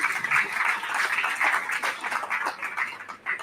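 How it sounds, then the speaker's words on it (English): Audience applause for a young exhibitor at a 4-H beef show at the 2025 Dawson County Fair: steady, dense clapping from a crowd, continuing for a few seconds with slight swells. "let's go ahead and give this kid a nice round of applause"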